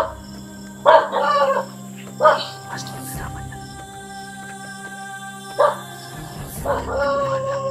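A dog barks at an unfamiliar person outdoors at night, a few loud separate bursts spaced several seconds apart, with crickets and a steady hum going underneath.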